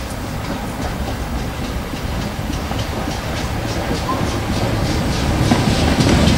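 Locomotive 3850 hauling a train past on the Great Central Railway near Loughborough at a winter gala, a steady rolling rumble with rhythmic clickety-clack of wheels over rail joints, growing louder toward the end.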